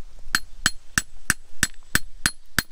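A hammer strikes a rock outdoors in Fort Frances, eight sharp, evenly spaced metallic clinks ringing out close and loud with brief silence between blows.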